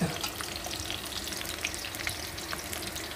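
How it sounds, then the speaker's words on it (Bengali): Potatoes fry in a pan with a steady, close sizzle and crackle, with small pops scattered throughout, a cooking fan whirring in the background, and no voices. "প্রথমে আলুটা একটু ভাজা ভাজা করে নেব, একটু ভাজতে থাকি বন্ধুরা"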